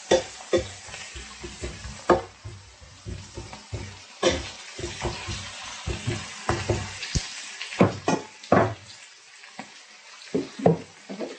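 Onions, peppers and mushrooms fry in a pan with soft sizzling, broken by frequent scraping and stirring clatter from a utensil, fairly quiet and close.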